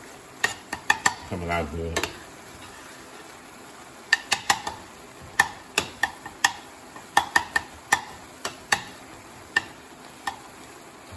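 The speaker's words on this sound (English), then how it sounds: "I'm trying to get the onion cooked in a little more" Onions cook in a pan for chili under a steady faint sizzle, broken by a run of sharp, close clacks as a utensil stirs and scrapes the pan; a voice speaks briefly.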